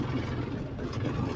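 An offroad motorcycle engine drones on a rough ride from Kerkha, Jhapa toward Phidim in eastern Nepal, a steady low rumble with wind buffeting, close and without speech.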